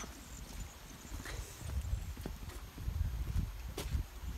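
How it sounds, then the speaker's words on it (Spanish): A donkey walking along a lane in an abandoned shepherd village, its hooves clip-clopping in an uneven rhythm of soft, close thuds over quiet outdoor background noise. "Tienes un burro."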